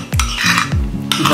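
A spoon mixes homemade cream in a bowl at close range, with loud, steady scraping and rubbing and a few distinct strokes scraping against the bowl.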